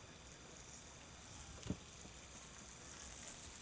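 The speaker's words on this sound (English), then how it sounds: "We got to sizzle as soon as we hit." Okra and sweet peppers sizzle steadily in a hot pan during a chef's demo, a faint, even frying hiss throughout with a single soft knock midway.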